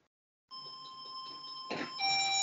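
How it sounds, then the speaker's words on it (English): A home doorbell rings, a steady electronic chime tone starting abruptly and sustaining at moderate level, shifting to a second, brighter tone near the end. "my doorbell's just going."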